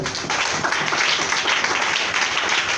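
A church congregation applauding loudly during worship, steady dense clapping with a bright crowd wash that holds level throughout, no talk over it.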